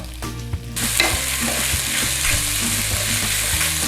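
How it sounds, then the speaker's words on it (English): Beef sears in a hot stir fry pan after a short quieter start, then bursts into a loud, steady sizzle punctuated by repeated scraping and tapping of a utensil stirring the meat, close up and without speech. "And we need to start cooking this beef. We want to sear it all over if we can."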